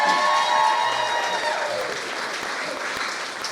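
A crowd of guests claps and cheers at a wedding reception, loud and close at first, then thinning gradually as the applause fades.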